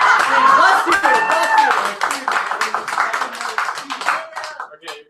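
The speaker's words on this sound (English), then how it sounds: "Clap, damn you!" Scattered, uneven clapping from a small café poetry crowd, sharp close hand claps mixed with chuckles and laughter, someone talking loudly over it before the claps thin out toward the end.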